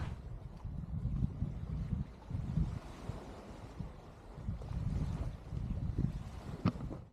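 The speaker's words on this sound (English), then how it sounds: "We are very much underway, sailing to Vista Mar Marina." A sailboat underway at sea, with a low, gusty rush of wind and water buffeting the microphone in uneven surges, plus a few faint knocks and creaks.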